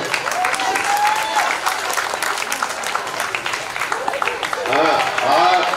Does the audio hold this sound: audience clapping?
yes